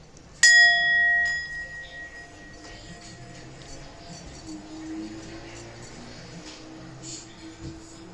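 Singing bowl struck once, a bright metallic ring with clear sustained overtones that fade over about a second, followed by quieter background sounds and faint movement.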